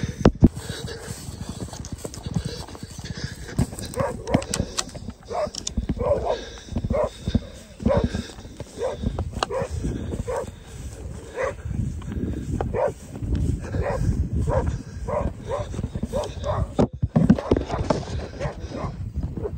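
Hunting dogs bark and yelp in an outdoor scramble in tall grass as they bail a quarry, overlapping with rustling movement and occasional shouts, fairly close and continuous.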